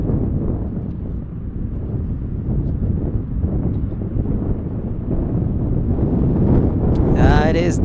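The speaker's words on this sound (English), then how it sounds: "The wind is blowing for sure" Strong wind buffets an outdoor microphone at a plane-spotting spot near DFW Airport in Dallas, Texas, a steady loud rumbling roar throughout with a faint voice briefly at the end.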